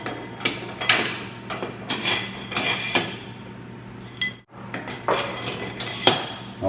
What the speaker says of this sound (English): And I'll put the 4 carriage bolts in.